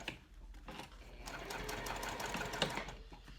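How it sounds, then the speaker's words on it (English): A sewing machine stitches through a cork trifold wallet, running in a steady continuous whir of rapid needle strokes with a brief sharper click near the end, close and fairly loud. "then we're gonna sew up and onto the second one, being sure to backstitch well"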